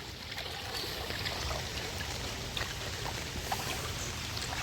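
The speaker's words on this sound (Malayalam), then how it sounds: "നല്ല ഒഴുക്കാണ് വെള്ളത്തിന്." Floodwater flowing in a strong current during the third flood in a month, a steady broadband rush of water that stays loud and even throughout, with no talk.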